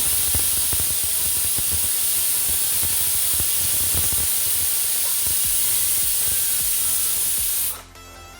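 Steady loud hiss of steam escaping a pressure cooker after cooking mutton curry, continuous and close for about eight seconds before cutting off abruptly near the end.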